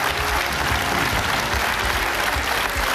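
A studio crowd claps steadily on the Swedish game show Vem vill bli miljonär? after a million-kronor win, in a dense, continuous ovation that stays loud throughout without talk.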